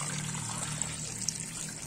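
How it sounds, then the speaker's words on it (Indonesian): Water trickling steadily onto the soil of a potted elm bonsai, a soft continuous pour with no talking. "kita siram dulu pakai air guys ya, kita siram dulu pakai air"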